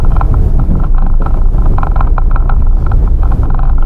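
A Harley-Davidson Sportster 883 motorcycle engine running close by in a workshop after a fuel filter change, a loud steady low rumble with a throbbing idle pulse and no talk.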